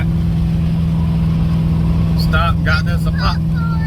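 A car on its first test drive cruises with a steady low engine drone, and a voice speaks briefly over it near the end.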